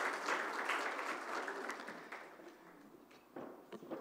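Audience applause welcoming a speaker at the opening session of the 2021 Beykoz Symposium, a steady wash of many hands clapping in a hall that thins out and then briefly swells again near the end.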